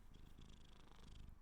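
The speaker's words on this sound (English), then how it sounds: "Oh, we're getting some purring action." A cat purrs steadily and very softly, a faint continuous rumbling hum held close while being cradled in someone's arms.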